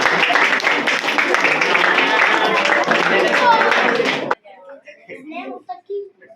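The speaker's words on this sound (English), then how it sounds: "Give a big round of applause." An academy awards audience, including children, bursts into loud, dense applause for about four seconds that cuts off abruptly, followed by a voice speaking alone over near silence.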